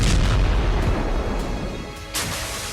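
Anti-ship missile strikes and explosions, heard as loud, deep booms and rumbling blasts that roll on and fade, with a fresh burst near the end.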